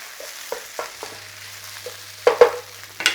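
Tomato puree being stirred into gravy in a hot pan, for a traditional Northeast England panackelty casserole: a soft, steady sizzle broken by several scraping, clanking stirs that grow louder near the end, with no talking.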